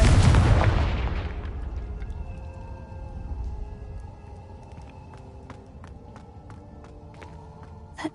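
A Confringo fire blast spell explodes with a heavy boom at the start of a Hogwarts Legacy cave scene, then a long rumbling decay under scattered faint clicks and ambient hum.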